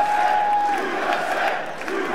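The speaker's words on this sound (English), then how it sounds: "the crowd, of course, erupts for Zidane" Large crowd at an esports awards ceremony cheering and roaring in a sustained burst, loud and continuous with a high whistle-like tone early on.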